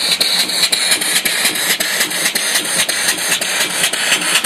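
A live steam mill engine with a flyball governor, sold as an antique with a pulley for driving a sawmill, threshing machine or dynamo, runs with a steady, even chuffing beat of regular strokes close to the microphone, with no talk over it.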